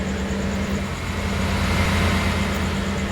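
A Hino 500 truck with its factory-standard engine pulls at medium acceleration, producing a continuous, loud, close-up deep rumble with a smooth, gravelly growl and no talking.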